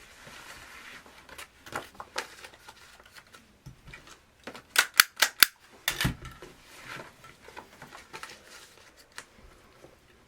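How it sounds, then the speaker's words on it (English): Stapler snapping flower stems and leaves together for a spring centrepiece, a series of sharp clicks and crunches with a quick cluster of loud staples in the middle, amid quieter rustling of foliage. "I'm going to staple it together, pinch it, and then staple it together right there."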